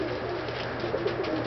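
A pigeon coos in a short, soft, continuous murmur lasting just over a second, close by, with low background noise and no talk.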